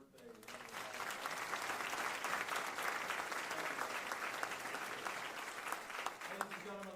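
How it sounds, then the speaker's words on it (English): Audience applause fills a hall at the close of a congressional debate, steady broadband clapping from a large crowd lasting several seconds at moderate volume. "Ladies and gentlemen, let's give Dr. Bob Molesworth a round of applause"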